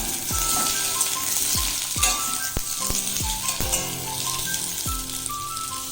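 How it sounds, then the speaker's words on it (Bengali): Potatoes sizzle steadily in oil in a kadai, a constant close hiss broken by several sharp metallic clanks of a spatula stirring against the pan. "এবারে আমি আলুগুলোকে ভেজে নেব।"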